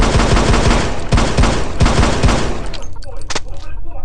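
Automatic gunfire in the zombie survival video game They Are Coming, with rapid loud bursts of repeated shots and booming impacts, then sparser scattered shots near the end.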